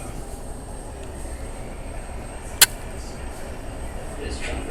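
A Blackpool tram in motion gives a steady, low rumbling ride noise throughout, broken once by a single sharp click midway.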